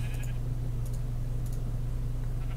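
Sheep bleat in a survival video game, a steady nasal droning bleat held throughout, loud and close, with faint clicks above it.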